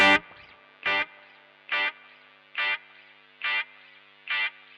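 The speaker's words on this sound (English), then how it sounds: "you can hear how the delay degrades as I do that" A Keeley Eccos tape delay pedal set to endless repeats, with a struck note echoing six times at an even pace of just under a second, each repeat slightly darker and degraded, sounding alone at moderate level.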